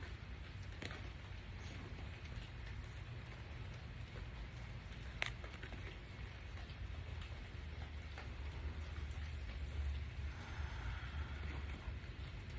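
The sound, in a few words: rain starting to fall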